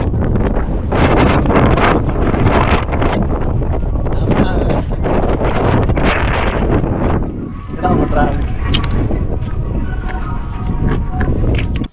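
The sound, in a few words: wind blowing constantly on a hilltop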